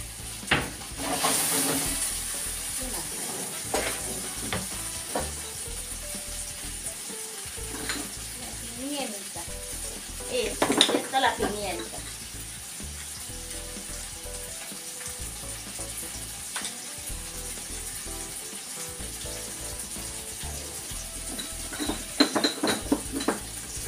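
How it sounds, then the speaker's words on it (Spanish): Spaghetti tossed in a spinach cream sauce in a sizzling pan, with steady frying hiss and intermittent scrapes and clinks of a utensil against the pan, voices talking over it at times. "Vean, amigos, la voy a revolver. Voy a revolver un poquito."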